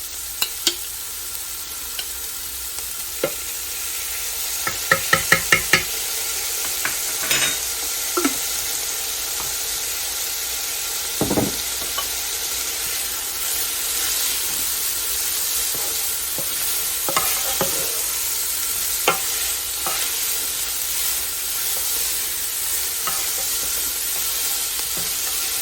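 Homegrown garlic, a couple of cloves, sautéing in a hot pan for turkey dumpling soup gives a steady, loud sizzle that runs the whole time, with clattery bursts of stirring early on.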